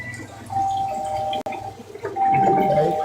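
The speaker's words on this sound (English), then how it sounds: "It's a lot of doorbells." An electronic doorbell chime sounds twice at a workplace, each a sustained bright tone, with a brief break between and faint background noise behind.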